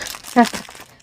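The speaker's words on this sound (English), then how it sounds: "Apologies for the crinkly noise." Plastic packaging from a Diamond Art Club kit crinkles and crackles in a short burst, close up, with a voice speaking quietly around it.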